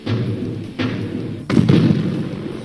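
A tank cannon firing in the HoloLens game Holo Tankz, with three separate close, heavy thumping booms, the last the loudest and longest.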